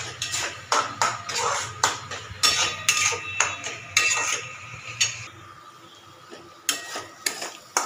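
Masala spices for a potol chingri dish are sautéed in a pan with vigorous, repeated scraping and clanking of a metal spatula against the pan, loud bursts in an irregular rhythm that pause briefly toward the end.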